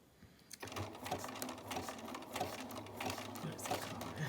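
A Bernina sewing machine with foot number 20 stitches a zigzag around a scrap fabric patch, a steady, close, continuous mechanical whir with a fast, even needle rhythm after a brief quiet start.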